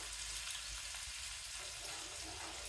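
Onions fry in a pan on high heat as a side dish of fried green beans is started. There is a steady, hissing sizzle throughout, fairly faint and with no voices.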